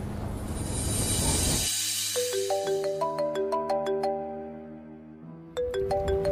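A phone ringtone plays a bright, repeating melody of chiming notes, loud and close, after a burst of noisy background that cuts off abruptly.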